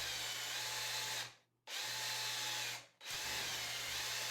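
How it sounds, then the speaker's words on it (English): Power drill boring steadily into a wooden pipe bowl, the loud continuous whine stopping twice for short gaps before starting again. "We'll probably have to go back and forth between drilling into the collar section or pipe insertion point and the actual bowl itself."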